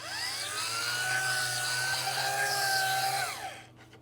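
A steady whining agitator motor hum from an Ars Imago M-Box film developing tank, with a shifting high-pitched tone, runs for several seconds, close and droning, then cuts off abruptly near the end.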